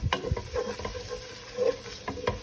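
A spoon stirs flour through softened onions in a pan for French onion soup, steady close scraping and stirring strokes over a continuous low sizzle, with no voices.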